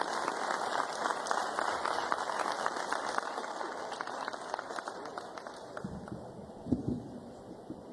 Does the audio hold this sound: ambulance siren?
no